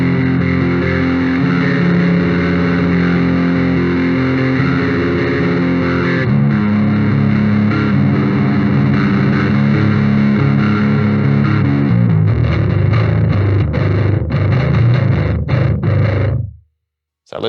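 A bass guitar runs through an R.Attack Little Bear distortion pedal set to low distortion, a loud, steady, buzzy low-end tone that plays without pause for about sixteen seconds before cutting off abruptly.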